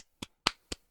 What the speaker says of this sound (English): Everyone clap for Rascal!